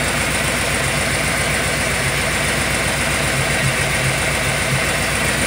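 An idling Ford engine with an exhaust header leak near cylinder three gives a loud, steady rumble with a rapid rhythmic ticking pulse running through it, heard close up and continuous.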